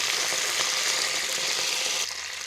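Mint and coriander leaves frying in hot oil give a loud, steady broadband sizzle with faint crackles, continuous for about two seconds before dropping slightly in level near the end.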